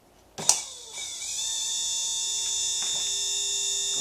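A Stargate motor spins up under high torque after a brief mechanical clunk, settling into a steady, close whine with a faint tonal hum that holds constant to the end.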